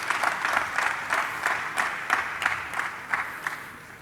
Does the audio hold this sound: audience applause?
yes